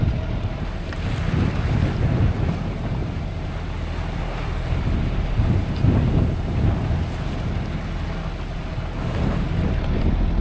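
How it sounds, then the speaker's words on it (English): A sailboat motors through lumpy open sea toward Cherbourg, a steady low engine rumble running under rushing wind noise and the wash of waves against the hull, loud and continuous throughout. "that's why I kept the engine on"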